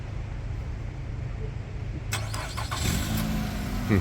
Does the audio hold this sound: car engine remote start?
yes